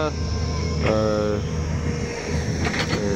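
Tractor engine running steadily while spreading soil to level a field beside a pond being widened and deepened, a continuous low drone with a faint whine, heard alongside someone speaking.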